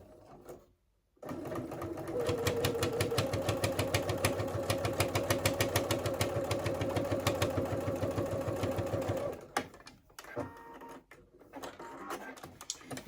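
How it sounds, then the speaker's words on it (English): A sewing machine stitches down the open side of a fabric beauty bag in a fast, even rapid-fire rhythm for several seconds, close by, then stops, followed by quieter handling sounds. "Take it to your sewing machine, and you're just going to stitch down the open side"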